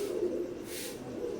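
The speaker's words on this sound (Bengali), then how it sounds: "তাদের প্যারেন্টসগুলা এই যে এখানে সবগুলাই আপনার ব্রিডার কবুতর" Teddy pigeons, imported Oman-bloodline breeder birds, cooing with a low, steady, continuous murmur close by, with no talk.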